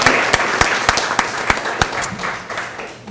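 An audience at a panel discussion on business in the marine environment applauds, a burst of clapping with several sharp, prominent nearby claps standing out, gradually thinning toward the end.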